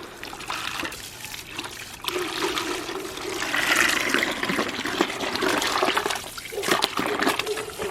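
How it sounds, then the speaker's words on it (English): Water from a hose splashes and gushes into and out of a bucket, a steady rushing wash that swells louder midway and continues to the end, with no talking. "And I will hose out the bucket."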